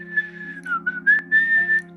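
A single thin, wavering whistle slides up and down in pitch over a low steady hum, close and clear with no voices.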